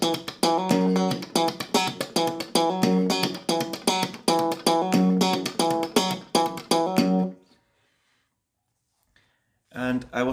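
Slap and pop exercise on a bass-style guitar, a rapid run of sharp percussive thumps and snapping plucks in steady rhythm, loud and close, then a few seconds of silence before another note.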